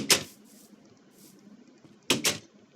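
A door in the Minecraft-based video game Tekkit Lite, two short wooden knocking thuds close by, one at the start and one near the end, with faint background noise between them.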